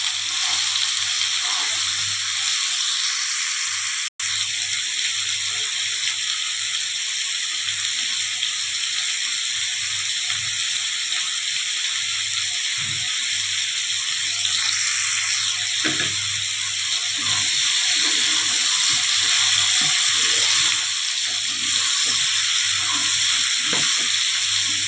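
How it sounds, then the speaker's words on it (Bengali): Vegetables for a vegetarian young jackfruit dish fry with turmeric in a pan, making a loud, continuous hiss that runs unbroken for the whole stretch, with faint clatter and no talking. "হলুদ দিয়ে দেব, ভালো করে ভেজে নেব"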